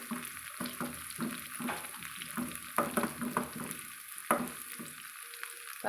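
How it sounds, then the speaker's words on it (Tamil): Small onions sautéing in a pan for sambar, a soft steady sizzle broken by repeated scraping and stirring strokes from a spoon, close and moderately quiet. "சின்ன வெங்காயம் போட்டுக்கலாங்க கொஞ்சம் அது வதங்கட்டுங்க ஒரு நிமிஷம் கலந்து விட்டுக்கலாங்க"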